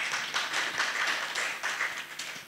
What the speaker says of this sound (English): please give a round of applause to Madam VP